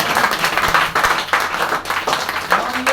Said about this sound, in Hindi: वो एलिमेंट्स के लिए और हमारी कंपनी के लिए जोरदार ताली